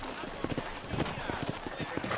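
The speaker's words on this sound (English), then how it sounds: "You ain't gonna find sturdier horses than these in all of New Ulster." Horse hooves clip-clop steadily on a dirt trail in the Red Dead Redemption western video game, a group of sturdy horses plodding along at a moderate, fairly close rhythm over ambient game sound.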